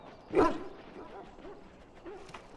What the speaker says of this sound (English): A trained Mabari hound is as dangerous as any sword.